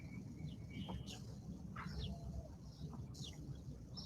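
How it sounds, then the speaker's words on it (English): Faint, distant birds chirp outdoors in short, scattered calls over a steady low background hum. "Can you hear the birds? Aren't they lovely?"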